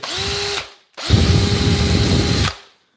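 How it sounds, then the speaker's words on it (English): A Makita DHP 458 cordless combi drill, just repaired with a new motor, whirs loudly in two bursts: a short spin-up and stop, then a longer high-pitched run that winds down, with no talk. "that's how you fix a Makita DHP 458 combi drill on the internet in 15 minutes"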